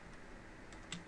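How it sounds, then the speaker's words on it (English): Typing on a computer keyboard for a programming lab, heard as soft, fairly steady key taps under a quiet room hiss, ending in a couple of sharper clicks. "see what I'm typing here"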